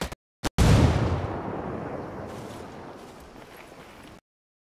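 A frag grenade detonates in the tactical shooter Ghost Recon Wildlands after two quick sharp clicks, a heavy boom that rolls and fades over several seconds before cutting to silence.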